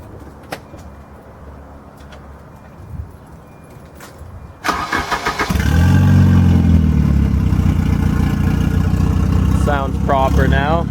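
A black wagon with an open exhaust and a boost controller cranks over with a few quick pulses after a quiet moment, then catches into a loud, raspy idle nearby, with a voice briefly heard near the end.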